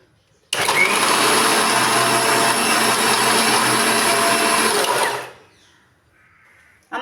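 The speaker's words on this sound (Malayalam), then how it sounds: "രണ്ട് കൊച്ചുള്ളിയും കൂടെ ഇട്ട് നമുക്കൊന്ന് അരച്ചെടുക്കാം" A kitchen mixer grinder runs steadily for about five seconds, grinding soaked tamarind with a little water and two small shallots, loud and continuous with a whirring hum, then stops abruptly.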